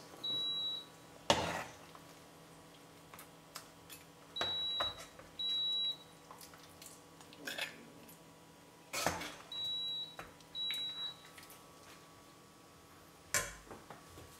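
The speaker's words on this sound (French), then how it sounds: "Voilà, ça va arrêter de sonner." A kitchen timer goes off at the end of cooking a Sri Lankan shrimp curry, giving short high-pitched beeps in several small groups. Sharp clinks of dishes and utensils break in between.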